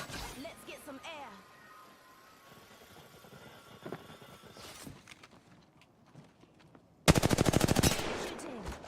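Automatic weapon fire bursts out in the Apex Legends video game, a rapid loud string of shots near the end after quieter movement and effects, with a voice speaking briefly.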